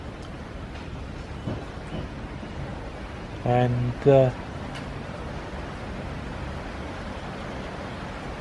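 Heavier rain falling outdoors in Germany, a steady broadband hiss throughout, with a brief burst of a man's speech near the middle and no distinct thunder.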